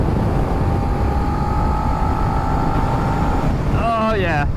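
A 2022 Suzuki SV650 motorcycle rolls on in sixth gear at motorway speed, a steady loud engine drone mixed with heavy wind rush throughout, a rising tone near the end, with no talking.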